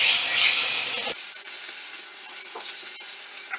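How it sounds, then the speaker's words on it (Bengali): Eggplant and water spinach being stirred in a hot pan over a medium flame, a loud sizzle that drops abruptly to a softer hiss, with scattered scraping stir sounds and no talk. "এবার সব কিছু সবজি আর শাক আমি ভালো করে নাড়াচাড়া করে নেব।"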